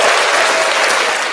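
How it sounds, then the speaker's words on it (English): Canned applause from a soundboard button, a dense, steady burst of crowd clapping that fills the whole short moment at high volume with no talking over it. "Carlos, the applause button. I hit it."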